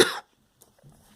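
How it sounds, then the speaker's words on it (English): A single sharp cough bursts out close to the microphone, followed by quiet breathing and a faint murmur. "I have to cough again."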